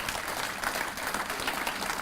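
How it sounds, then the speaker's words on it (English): Audience clapping at a legislative summit event marking a city's tricentennial, with dense, sustained applause filling the room evenly throughout, with no talking over it. "Yes, you can clap, Judy."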